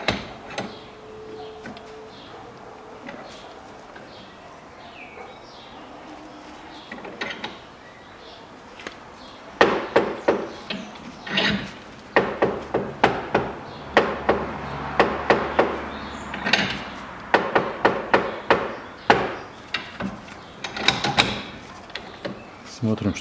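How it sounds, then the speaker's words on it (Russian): Universal joint cross caps on a Ford Ranger 2.5 Turbo front driveshaft being pressed in with an 18 mm socket, giving a series of sharp metallic clicks and knocks that come in clustered bursts after a quieter start. "Беру головку на 18 и сначала вдавливаю одну сторону."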